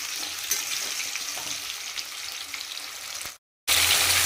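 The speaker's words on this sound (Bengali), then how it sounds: "আলু আর পেঁয়াজটা একসাথে ভেজে নেব।" Potatoes and onions fry together in plenty of oil, giving a steady, close sizzle with faint crackles throughout. The frying cuts out abruptly for a brief moment near the end, then returns at full loudness.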